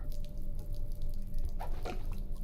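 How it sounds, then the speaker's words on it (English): Water running onto a cloth in the video game The Silent Age, a soft steady wash of flowing water with a couple of brief drip-like splashes near the middle, fairly faint and with no voices. "Cloth is now soaking wet with cold water."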